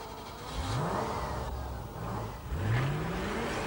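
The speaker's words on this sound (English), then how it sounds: "this is the only one here to have a V8 engine" A 1991 Range Rover's V8 engine revs twice, each time rising from a low rumble to a strained whine against a moderate driving drone.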